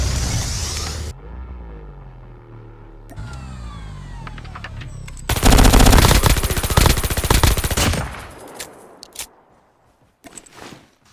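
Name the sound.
machine pistol gunfire in video game COD Mobile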